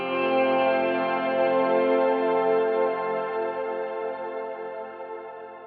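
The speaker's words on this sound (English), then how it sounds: "that's what I've been using for a shimmer verb." A sustained, shimmering guitar chord through a Kemper shimmer reverb, washed in lush reverb with bright high overtones, ringing steadily and slowly fading.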